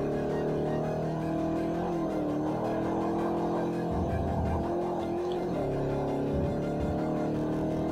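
Ford Thunderbird engine in the Forza 4 racing game, a steady loud drone rising and falling with revs through gear changes, continuous and close with no talk.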